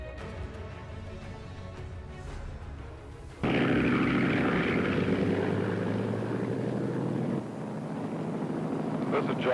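The airplane Miss Daily News in flight puts out a loud, steady propeller engine drone. The drone starts abruptly partway through, following a quieter stretch, and holds on without talk.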